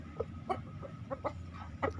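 A young ayam jago fighting rooster clucks in a string of short, scattered calls over a steady low farmyard hum, fairly close and moderately loud.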